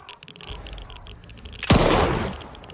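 A single heavy gunshot-like blast in the Stalker 2 video game, loud and close with a rumbling decay, following a stretch of quieter gameplay ambience.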